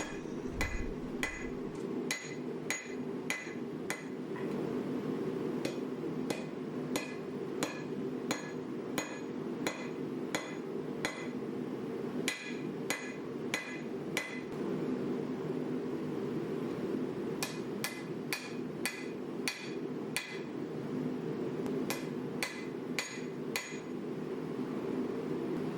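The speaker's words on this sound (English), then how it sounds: "so I only forged out the tang and" Hammer blows forge the tang of a canister Damascus petty knife billet made from nails, ringing in irregular bursts of sharp metallic strikes with brief pauses, loud and close over a steady background roar from the forge.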